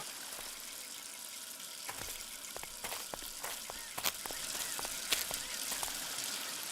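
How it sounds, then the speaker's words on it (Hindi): Water escapes from a burst pipe with a continuous hissing, spraying rush, joined by scattered clicks and small splashes, fairly faint and steady throughout. "यहाँ पे पानी की पाइप फटी हुई है।"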